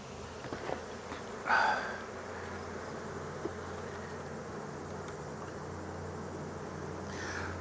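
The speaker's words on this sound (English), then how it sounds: "Look at the bees, are crazy" Many honeybees swarm around an opened hive, a steady dense buzzing hum filling the air close by, with a few brief louder passes of individual bees.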